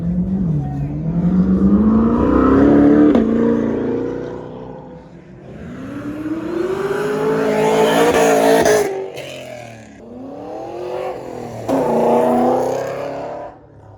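A Corvette C8 sports car engine revs hard through several rising pulls, loud and close, with brief drops between bursts of acceleration.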